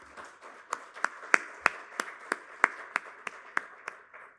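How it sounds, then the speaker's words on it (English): A few people clapping slowly and sparsely at a corporate facilities-management event in a Sheraton Grand hotel ballroom, roughly a dozen distinct, evenly spaced claps in a quiet room. "let's have a great round of applause for yourself"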